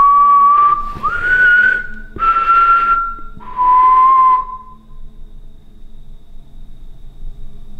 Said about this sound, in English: Yeah, I heard a whistle.